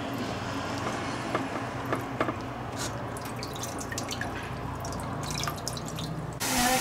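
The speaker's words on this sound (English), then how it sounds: "filling the sink with cold water" Cold water runs steadily into a sink with a continuous splashing hiss and scattered drips, fairly close and unbroken, growing slightly louder at the end.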